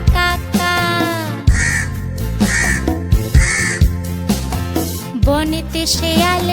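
A sung children's rhyme in which a voice imitates a crow's cawing, with repeated short harsh caw-like calls in rhythm over bright musical accompaniment, loud and close.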